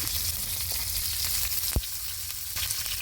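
Curry leaves dropped into hot coconut oil for tempering crackle and sizzle loudly and continuously at close range, with a single dull knock partway through.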